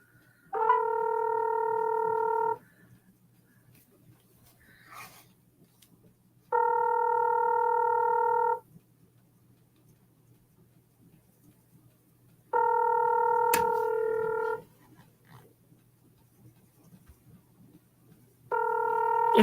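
Ringback tone of an outgoing telephone call: four evenly spaced two-second rings separated by roughly four-second silences, clear over a quiet room.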